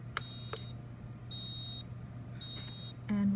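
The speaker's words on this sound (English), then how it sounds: "This is the first case where in the morning your alarm clock turns on." A morning alarm clock, part of an Arduino smart home prototype, going off with repeated electronic beeps in short steady tones, separated by gaps over a low hum, plus a couple of sharp clicks.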